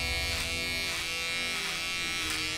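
A cheap electric shaver buzzes steadily and close, a continuous bright, harsh motor drone with slight wavering in pitch, heard on its own without talk.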